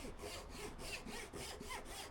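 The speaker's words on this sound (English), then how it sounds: "this saw here just makes light use, light work of that" A hand saw cuts through a piece of scrap in rapid, rhythmic back-and-forth strokes, about four per second, with a gritty rasp. The sawing is close but quiet.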